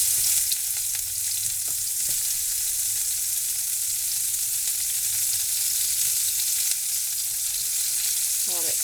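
Onion sizzles in a pan alongside freeze-dried pork chops, a steady close frying hiss with a few brief stirring scrapes and clatters and no talking.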